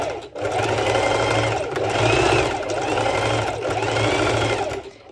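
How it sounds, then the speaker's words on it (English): A sewing machine stitching a bikini lining runs close and loud in several short bursts, with brief pauses between the runs of stitches. "I literally make a few stitches across because I want it to be well secured"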